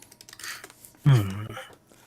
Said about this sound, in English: Oh, you're typing everything to him.